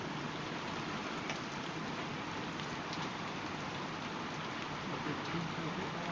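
Hail pounds a metal building in a March storm, a dense, steady rattling roar that fills the whole stretch without a break.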